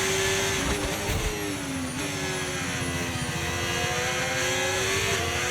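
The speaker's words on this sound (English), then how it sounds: "I can hear Kimi Antonelli's Mercedes engine roaring behind me" A Mercedes Formula 1 car engine in the racing game F1 25 roars loudly and continuously as a high, strained whine with slight pitch shifts, right behind the player's car, with no talking.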